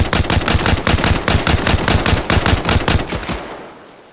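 Automatic gunfire in the ARMA Reforger military shooter, with a loud, close burst of rapid rhythmic shots lasting about three seconds before fading out.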